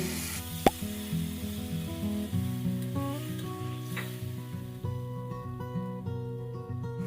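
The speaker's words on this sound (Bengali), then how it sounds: "কেমন তেলগুলো ফুটছে, এর মধ্যে তেল বেরিয়ে গেছে।" Oil bubbling and sizzling in a pan of Bengali morola fish curry masala with brinjal, after the spices have been fried down, a steady close crackle that carries through to the end with a brief sharp tap near the start.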